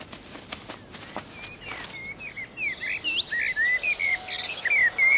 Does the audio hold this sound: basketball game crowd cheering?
no